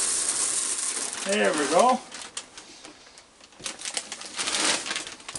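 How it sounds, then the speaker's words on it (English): A resealable plastic bag crinkles and rustles close by in quick, uneven bursts while someone feeds raccoons at night, with someone speaking briefly over the handling. "It's a resealable bag."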